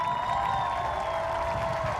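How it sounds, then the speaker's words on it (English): A graduation audience at the Roselle Park High School Class of 2024 ceremony applauds its standing parents and guardians with a steady, sustained wash of crowd clapping that holds evenly throughout. "Parents and guardians, please stand so that we may pay thank you to you with a round of applause"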